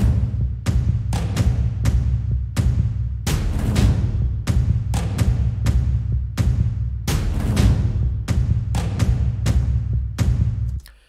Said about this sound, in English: It's composed of a kicked with a filter and then a lot of drums,